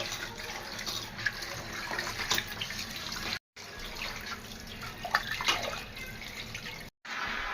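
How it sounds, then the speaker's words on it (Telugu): Tap water runs steadily into a sink while mutton is washed, with splashing and dripping over a continuous stream, broken by two brief gaps. "ఇదిగోండి మటన్ కడిగేస్తాను. శుభ్రంగా 4-5 సార్లు కడుక్కోవాలి మటను"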